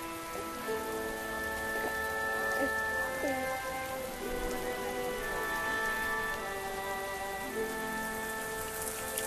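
Steady rain falls and patters on surfaces at a moderate level, with faint drops throughout and music or sustained tones layered over it in a dramatic scene.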